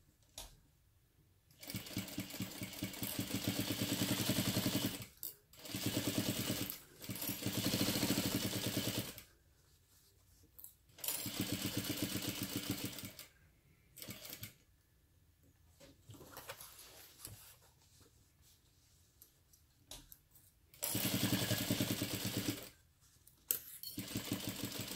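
A sewing machine stitches a crossbody bag in loud running bursts of several seconds each, separated by short quiet pauses with faint handling clatter.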